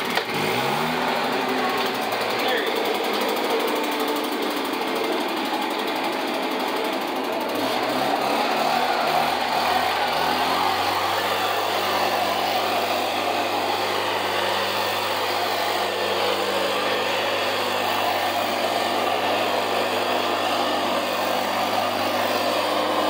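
A gas-powered leaf blower is pulled to life, sputtering briefly before settling into a loud, steady high-pitched engine roar that continues close by without pause, used on wet leaves outdoors.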